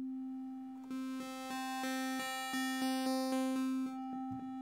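Ableton Live 12's Meld synth plays a held tone on a steady pitch while its basic oscillator shapes are scrolled, sine through triangle and saw. The timbre brightens and changes in quick stepped jumps, clean and close with no talking.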